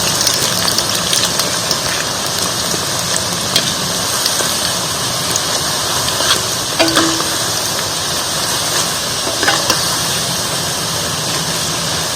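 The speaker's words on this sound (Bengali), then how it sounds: "নিমকিগুলো আমার ভাজা হয়ে গেছে, তুলে নেব।" Nimki, a crisp fried snack, deep-fries in hot oil with a dense, steady crackling sizzle that continues evenly throughout, with a few faint clicks and no talking.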